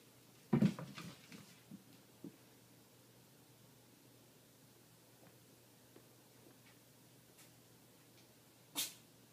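A single sharp sneeze sounds close by near the start, followed by a quiet room with a few faint knocks and a brief soft burst at the end.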